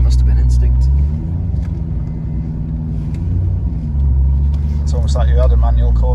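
A C5 Corvette with an LS1 V8 and manual gearbox rumbles while driving, a deep steady engine drone that swells and eases, with people talking inside the car over it.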